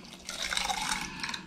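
Freshly cut potatoes drop into a container of water, giving a short burst of splashing and dripping liquid that starts quietly and then carries on at a fairly even level, with no talking.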